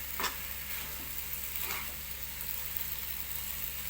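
Pork sizzling as it fries in a pan for a stir-fry of bamboo shoots with curry paste, a steady hissing crackle with a few brief louder spits.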